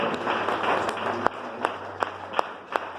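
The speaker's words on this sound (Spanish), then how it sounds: "denle ese aplauso a nuestro Dios" Congregation applause at a Spanish-language church service: a dense wash of clapping with a few sharper individual claps standing out, over a low steady hum.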